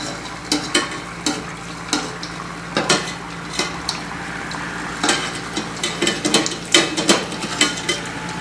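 Athirasam, a sweet dough cake, frying in oil over moderate heat, with a steady sizzle under scattered metallic clinks and scrapes of a utensil against the pan, close by with no voices.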